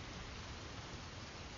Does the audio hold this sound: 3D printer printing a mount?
no